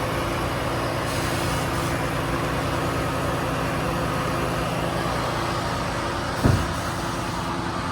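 Diesel engine of a tipper lorry running steadily while it raises its body on a farm, a continuous low rumble close by with a brief louder thump near the end and no talk.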